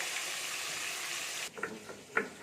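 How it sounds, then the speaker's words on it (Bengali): Rohu fish sizzles in hot oil in a pan, a bright steady hiss for a moment before it suddenly drops to a quieter crackle with a few clinks of utensils. "এখানে মাছগুলো দিচ্ছি মাছগুলো আমি ভাজতে দেবো"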